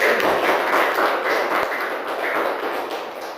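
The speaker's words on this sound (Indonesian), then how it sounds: "Kita berikan aplaus yang meriah untuk" An audience at a school teachers' event applauds with a dense, steady wash of clapping that holds for the whole stretch and slowly fades slightly, with no talking over it.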